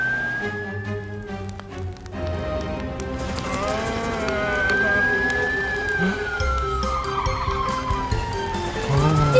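Siren from a cartoon baby fire truck, a steady wailing tone that rises and falls slowly over several seconds, moderately loud, with cartoon music and effects underneath.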